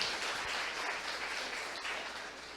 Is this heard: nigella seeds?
no